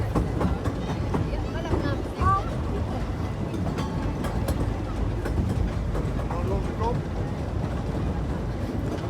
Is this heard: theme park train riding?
yes